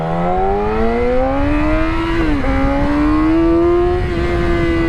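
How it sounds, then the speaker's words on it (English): A Ferrari sports car engine revs and pulls hard, its pitch climbing steadily through gears with a brief dip at a shift, loud, close and continuous. "Whoa, Ferrari, yeah, awesome, nice looking fucking car, baby."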